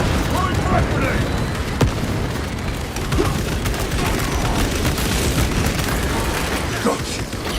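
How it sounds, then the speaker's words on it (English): A frag grenade detonates in the Warhammer 40000: Space Marine II video game: a dense, loud battle din of booms and rattling gunfire, with one sharper blast standing out, continuous for several seconds. "Throwing frag grenade!"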